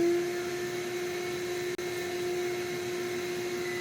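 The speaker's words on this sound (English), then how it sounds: "Okay, the shop vac is running" Shop vac running steadily on power from an MPP Solar LV6548 inverter during a switch to battery mode, a loud constant motor drone with one split-second dropout midway.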